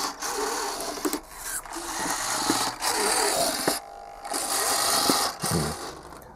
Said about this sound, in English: Aileron servo operates as well.